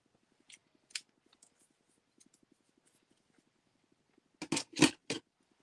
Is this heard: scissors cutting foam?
yes